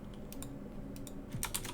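Someone types on a computer keyboard, producing soft, scattered key clicks in a quiet room with a faint steady background hum.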